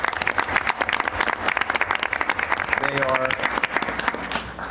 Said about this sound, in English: Let's give a round of applause to the girls soccer team who won their first Long Island championship